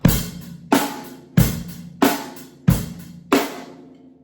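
A basic black metal drum beat played on hi-hat, bass drum and snare, with six evenly spaced, sharp, close hits ringing out between strikes at a slow, steady pace.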